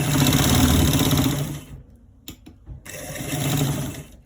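A sewing machine stitches a fabric pocket: a loud, rapid, steady whirring run that stops briefly with a few small clicks, then starts again.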